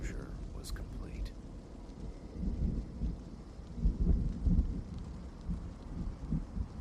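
Heavy rain pours steadily with low rumbling thunder swelling and rolling underneath, a dense storm ambience that is fairly faint and distant, with brief faint whisper-like sounds near the start.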